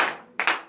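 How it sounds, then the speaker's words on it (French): A church congregation at a morning prayer service breaks into brief bursts of hand clapping, with two quick rounds of close claps fading between them. "Donnez l'acclamation à l'Éternel."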